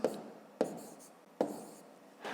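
A pen writes numbers for a column addition sum on paper, in short scratchy strokes heard in three or four bursts, close and quiet, with no talking.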